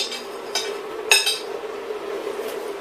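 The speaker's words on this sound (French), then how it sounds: "Je vais couper mes knackis végés." Vegetarian Herta knacki sausages being sliced with a knife, giving a few sharp clicks of the blade against a hard surface or dish over a steady background hum, close and fairly loud.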